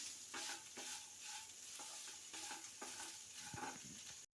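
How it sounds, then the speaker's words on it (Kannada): Cashews and soya chunks frying in oil with salt for a gravy, a faint steady sizzle with regular soft scrapes of stirring, quiet and close throughout. "ಇದು ಇವಾಗ ಎಣ್ಣೆ ಹಿಡ್ದಿದೆ ಅಂದ್ಕೊಳ್ಳೋಣ ಎಣ್ಣೆಲಿ ಫ್ರೈ ಆಗಿದೆ"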